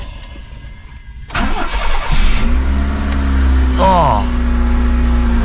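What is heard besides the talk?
Honda Civic engine starting after not running for a while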